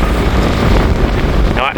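Strong gusts buffet the microphone outdoors in a loud, continuous, roaring rumble that swamps everything else, easing only slightly at the very end.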